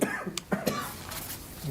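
A person coughs in a short fit at a board of education meeting, a few quick rough bursts close to the microphone, heard over steady room noise.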